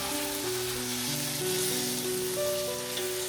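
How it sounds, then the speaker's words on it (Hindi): Chicken and onions sizzle and fry in a pot while a spoon stirs them, a steady close crackle that runs without a break under faint background tones. "ये साथ साथ चमचे से हिलाते रहना है और गोश्त जो है उसको भी अच्छे से ब्राउन कर लेना है"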